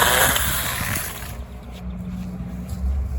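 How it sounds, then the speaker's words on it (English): A hand saw or pruning saw cuts overhanging tree branches outdoors, giving a loud, rough rasping for the first second or so before dropping to a low background rumble. "Fran's just chopping down some of the branches"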